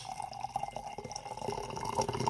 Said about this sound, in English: I'm going to go ahead and pour some of this out.